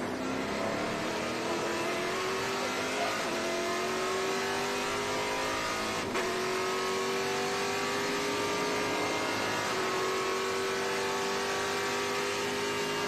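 Race car engine heard from an onboard camera at Virginia International Raceway, loud and continuous, pitch climbing through gears with brief drops at each shift.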